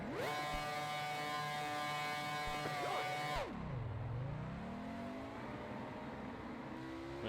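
A Grand Prix 4 race car at Monaco revving high through the gears, a loud steady engine whine that drops sharply at a gear change and then climbs again, alone with no talk.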